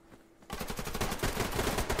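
Computer-controlled bots in the shooter game Survarium fire rapid automatic bursts at close range. The loud, rattling gunfire starts abruptly and carries on continuously, with no talking.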